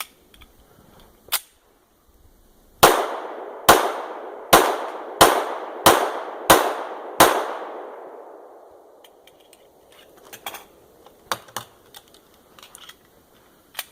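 Seven sharp, loud rifle shots from an Oriskany Arms rifle at its first firing, evenly spaced and ringing out with echo, followed by quieter metallic clicks and clatter of handling.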